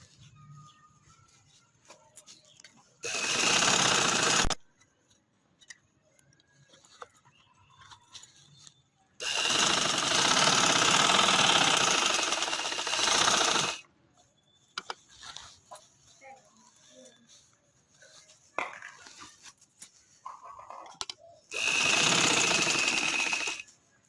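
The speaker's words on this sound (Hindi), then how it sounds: "ये देखें मैंने सिलाई कर ली है" Sewing machine stitching a pillow cover in three loud bursts of rapid mechanical chatter, separated by quiet pauses filled with small handling clicks and rustles, recorded close up.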